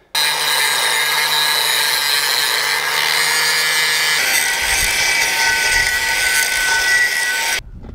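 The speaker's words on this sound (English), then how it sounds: "So I'm gonna grind those down and then call that good." Grinder working down thin angled metal on a Hyster winch for a Caterpillar D4 rebuild, a loud, continuous abrasive whine that shifts in tone midway and then cuts off at the end.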